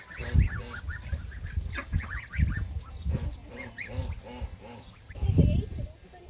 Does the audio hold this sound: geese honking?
yes